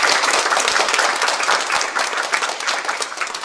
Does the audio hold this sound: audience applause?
yes